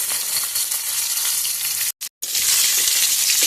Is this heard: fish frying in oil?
yes